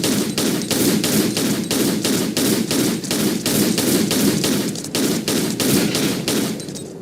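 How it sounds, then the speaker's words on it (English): Rapid, evenly spaced gunshots ring out in a loud burst as a player shoots crocodiles in a custom Tomb Raider level, the rhythmic firing continuing almost without pause throughout. "You can stand here and shoot them as I'm doing now."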